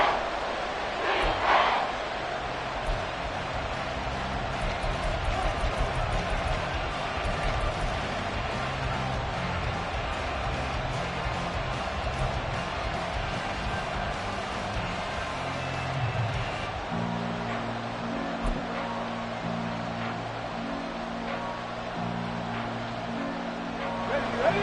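Stadium crowd noise swells through a fourth-quarter NFL game between Dallas and Washington, a broad sustained roar with play-by-play voices speaking over it throughout.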